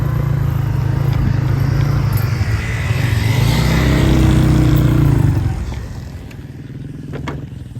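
A motorcycle ridden along a mountain road in Saran Valley, Mansehra, its engine droning steadily and loud up close, swelling in a rev before dropping back to a lower rumble near the end.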